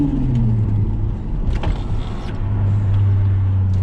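A car with a swapped-in manual gearbox driving along and working through the gears, a loud steady engine drone heard from inside whose pitch falls, dips at a gear change, then settles into a lower hum.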